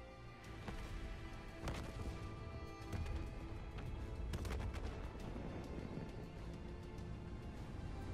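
Heavy booming blasts and crashing impacts roll across a facility in the Call of Duty Black Ops 3 video game, several bursts in quick succession with rumbling low end and sharp cracks, fairly faint overall.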